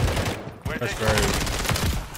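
Rapid SMG gunfire in the video game Modern Warfare 3, dense overlapping bursts of shots close by, with a brief lull and then renewed firing, mixed with voices talking.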